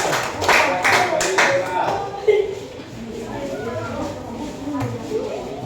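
Students in an Indonesian classroom clap for a group after its presentation, a burst of hand claps in the first seconds that thins into scattered taps, with voices talking throughout.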